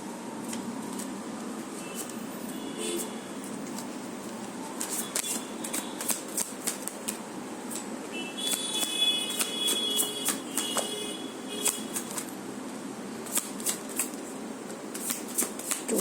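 Tarot cards shuffled by hand in a single shuffle, a steady papery riffling with sharp clustered flicks that thicken in the middle and end, close and clear with no talking.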